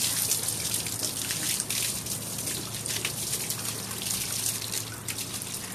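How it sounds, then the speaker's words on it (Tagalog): Water is poured and splashed across a dusty terrace floor, a continuous rushing, trickling wash with small splatters, fairly close and steady throughout. "Panay ang buhos dahil nga sa pag-alikabok."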